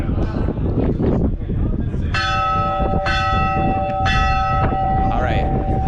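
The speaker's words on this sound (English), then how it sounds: "it's said that you have to ring the bell 3 times for good luck" A church tower bell in Spain's Basque Country is struck three times at roughly one-second intervals, each ring clear and resonant and decaying before the next, over outdoor background noise.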